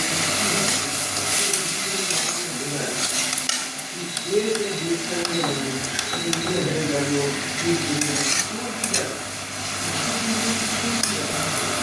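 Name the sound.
fish curry being stirred and cooked in a pan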